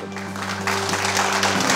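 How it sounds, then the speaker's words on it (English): Studio audience applause for two contestants on a television quiz show, a broad wash of clapping over a steady low electrical hum, swelling slightly partway through. "Applause for Galina and Yuri"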